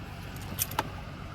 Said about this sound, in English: I'm gonna need some keys, Matt.